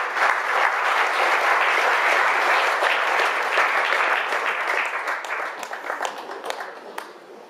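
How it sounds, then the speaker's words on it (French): Audience applause fills a film festival award ceremony at Visions du Réel, a dense, steady clapping that holds strong for several seconds before thinning into scattered claps toward the end. "Sous vos applaudissements"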